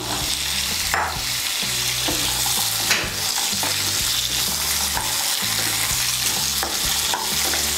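Chickpeas are stirred into fried pumpkin in a hot pan, a loud, continuous sizzle broken by repeated scraping strokes of a spatula against the metal.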